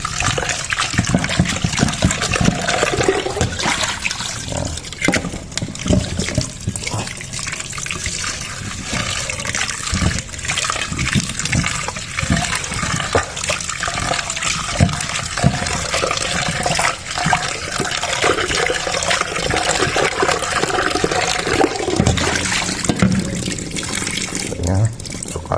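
Steady running water pours and splashes throughout as pansit-pansitan leaves are rinsed, like a tap in a sink, with faint background murmur.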